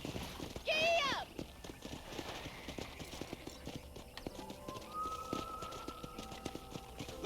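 Video game horse hooves clip-clop in a steady, close rhythm through the whole stretch, with a short burst of a whinny-like voice near the start and light background tones underneath.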